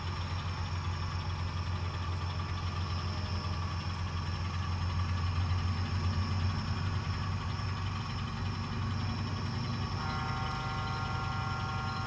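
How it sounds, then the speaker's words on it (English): Diesel locomotives idle at a distance with a steady low rumble that swells slightly midway, under a constant clatter and hum of nearby machinery on an industrial railroad. "You should be picking up the diesels here pretty soon."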